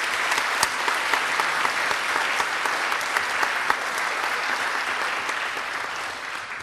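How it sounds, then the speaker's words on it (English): A concert audience at a school choir performance applauds for the choir students, a sustained, close, dense roll of clapping with a few sharper claps standing out, slowly easing toward the end. "So let's give them a round of applause."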